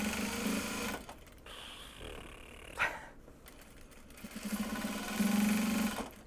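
A sewing machine stitches project bags made from Japanese fabric in short steady buzzing runs with pauses between them, close by, along with some handling noise.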